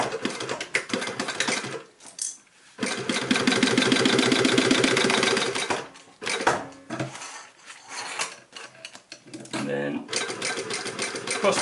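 A sewing machine runs in bursts of rapid mechanical stitching as it sews webbing onto a roll-top bikepacking frame bag, with short pauses and fabric handling between runs.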